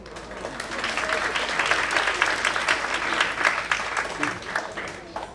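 Audience at a French conference on memory breaks into warm applause, clapping swelling and holding at moderate loudness before easing off near the end.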